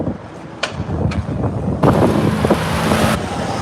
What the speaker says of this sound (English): The wind is strong, especially in this area. This is like the open tunnel, like a wind tunnel.